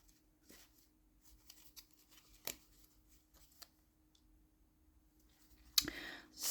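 Tarot cards being handled and shuffled, soft scattered clicks and light snaps spread across the clip, quiet and close, ending in a brief louder riffle of cards.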